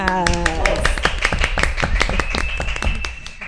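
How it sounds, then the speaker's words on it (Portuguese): Quick, irregular claps from a small group welcoming guests onto a podcast, a short burst of applause with a voice briefly heard at the start. "Uma salva de palmas!"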